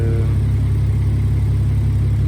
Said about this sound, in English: kind of enjoying the beefy sound coming out from the exhaust.